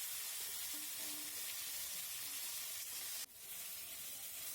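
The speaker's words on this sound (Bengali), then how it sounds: "কড়াইতে তেল দিয়ে ফোড়নের জন্য 5 ফোড়ন আর শুকনো লঙ্কা দিয়ে টমেটো আর রাঙালুটা দিয়ে ভেজে নেব" Tomato and sweet potato fry in hot oil with five-spice seeds and dried red chillies, giving a dense, continuous hiss with one sudden sharp crackle near the end.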